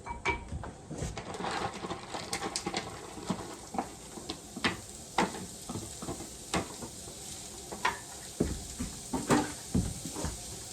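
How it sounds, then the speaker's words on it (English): Food sautés in butter in a pan, with a soft continuous sizzle broken by frequent sharp clicks and scrapes of stirring and utensils close by. "Let it saute."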